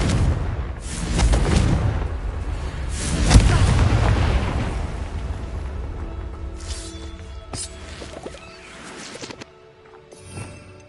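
A Confringo fire spell in Hogwarts Legacy detonates with loud, booming explosive blasts that roll and fade, followed by quieter crackling debris and scattered hits as the noise dies down.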